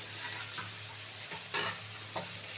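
Flat beans stirred into fried shrimp in a pan, a quiet sizzle beneath several scraping stir strokes and clinks of the utensil, with no voices.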